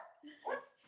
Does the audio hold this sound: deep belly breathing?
no